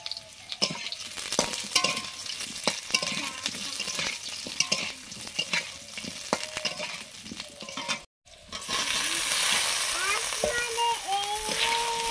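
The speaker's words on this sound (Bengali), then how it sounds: "আলুগুলো একটু ভাজা হয়ে গেছে, তারপরে ঝিঙে দিয়ে দিলাম।" Potatoes fry in a pan with a close, crackling sizzle and sharp stirring clatters. After a brief cut, a louder, smoother hiss follows.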